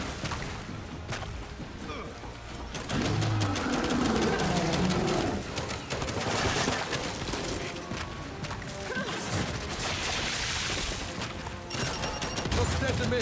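Sustained rapid gunfire in Gears 5 on Xbox One S, dense automatic bursts with crashes and mechanical clatter, loud and continuous with layered battle noise and shouted voices over it.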